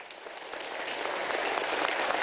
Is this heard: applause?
yes